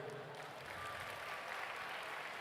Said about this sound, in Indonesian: ini tepuk tangan buat mahasiswa UNER ini.